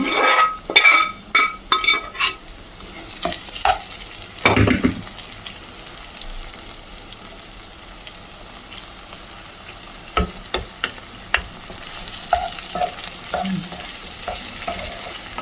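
Mutton pieces frying in a pan and being stirred, with sizzling underneath and a burst of clinks and scrapes from a spoon against the pan at the start, then a quieter stretch of sizzle with occasional knocks.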